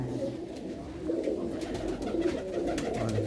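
Pigeons coo in a loft, low soft burbling calls repeating steadily and close, over a constant noisy background hum.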